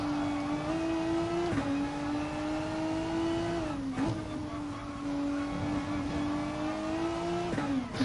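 Race car engine in the driving game GT Sport, a continuous close, loud whine that rises and falls through gear changes and throttle lifts as the car laps the track, no talking over it.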